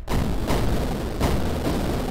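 Explosions in the video game Biota, two or three heavy booming blasts a second or so apart over a dense, continuous rumble of game noise, loud and with no voices.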